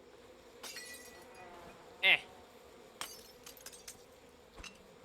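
A glass bottle shatters in the video game We Happy Few: one short, bright crash with a ringing tinkle midway through, over a quiet game background with a brief murmured voice.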